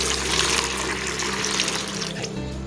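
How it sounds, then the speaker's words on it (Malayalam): Water pours steadily into a vessel holding 20 grams of Pseudomonas fluorescens powder for a garden solution, a continuous close splashing gush lasting a few seconds. "1 ലിറ്റർ വെള്ളം ഒഴിക്കാം"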